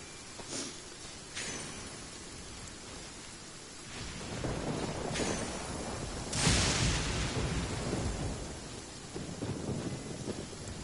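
A thunderstorm in the Windtrace game mode: steady rain hisses throughout while several thunder cracks and rolling booms break in, the loudest near the middle, with no one talking.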